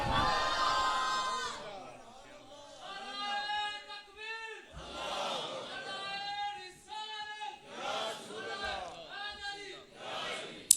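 Crowd at a religious gathering chanting slogans in unison, a lead voice calling and many voices answering in rhythmic, swelling responses, loud and close.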